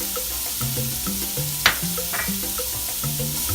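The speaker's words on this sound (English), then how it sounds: "let's just saute that until it's pretty translucent" Onion and pepper sautéing in a pan for Cuban arroz con pollo, a steady close sizzle with a single sharp clink of a utensil partway through and faint tonal kitchen background.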